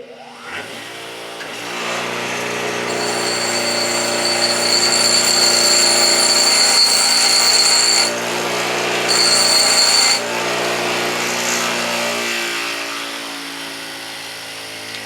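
A power grinder works over the welds on a steel U-joint tail shaft, spinning up to a loud sustained whine with a shrill high-pitched tone that drops out briefly midway, then winds down.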